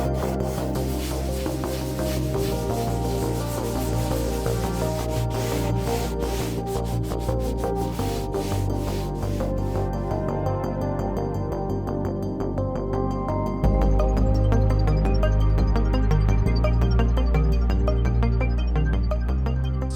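A Volkswagen T4 part is hand sanded with 240-grit sandpaper, producing continuous close rubbing and scratching strokes in a steady rhythm, loud and alone, with a denser grinding texture in the last few seconds.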